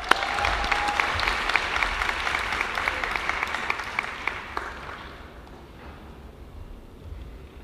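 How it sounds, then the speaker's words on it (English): Audience applause at a youth event on HIV work, a sustained, dense wash of clapping that fades out toward the end. "A big round of applause, please."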